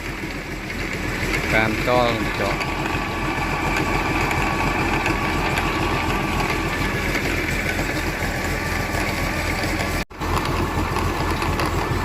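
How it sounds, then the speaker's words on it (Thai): A drilling rig engine drones throughout during rock exploration drilling in northern Laos, loud and close, with a brief clattering burst early on and a short dropout near the end. "นี่เป็นการเจาะ"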